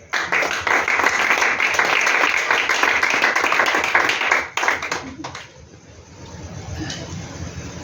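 A church congregation bursts into sustained applause and clapping, loud and dense for several seconds before breaking off abruptly, leaving a quieter murmuring room with some talk.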